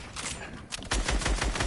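A minigun firing in a first-person shooter video game: after a short lull, a loud, rapid, unbroken stream of shots rattles on near and dense to the end.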